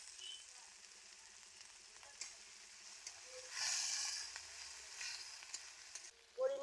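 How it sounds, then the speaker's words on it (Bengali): Tomato frying in oil over a village earthen stove, a quiet, soft sizzle with a brief louder hissing burst midway and a clatter at the end. "টমেটো দিয়ে দিচ্ছি তেলের উপর"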